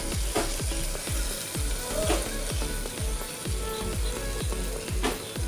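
Water poured into a pan of frying greens and lentils sets off a loud, close sizzle with rhythmic crackling bursts that repeat steadily and stay dense throughout.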